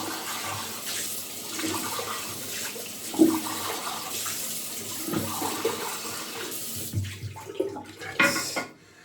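Tap water runs steadily while a shaving bowl is rinsed out at a sink after a morning wet shave, a soft continuous splashing with a few louder knocks and swishes near the end.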